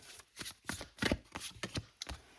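A deck of tarot cards is shuffled by hand nearby, giving a series of crisp riffling and snapping bursts at an uneven rhythm, with no talking.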